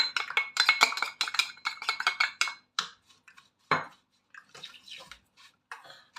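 A spoon works grated nutmeg into a sweet dish, giving quick metallic clinks and scrapes against the vessel that start busy, then thin out into sparse taps and pauses.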